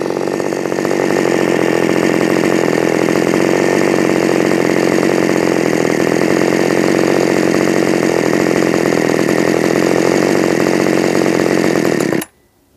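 Small engine with a ruined cylinder runs loud and close at a constant, raspy buzzing pitch, struggling rather than settling into an idle, before cutting off abruptly near the end.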